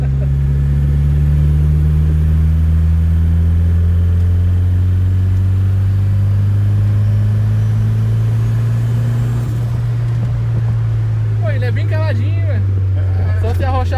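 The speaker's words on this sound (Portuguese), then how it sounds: "Apesar que tem um escapamento aí de inox, não, ele dá faz um barulho mais grosso" A Chevrolet Chevette with an OHC turbo engine and stainless steel exhaust runs with a loud, deep, steady drone whose pitch slowly climbs, heard close up for the whole stretch, with voices talking near the end.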